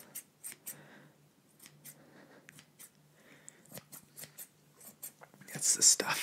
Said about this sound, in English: the scissors work